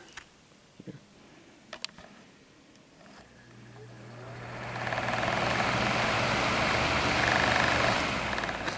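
A Windmere desk fan motor spins up from rest, a low hum and whir swelling steadily over several seconds into a sustained airy rush, preceded by a few faint clicks.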